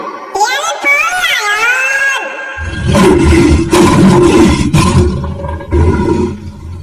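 A loud, close lion roar rumbles for several seconds after a voice speaks in a sing-song tone, with the roar swelling in bursts.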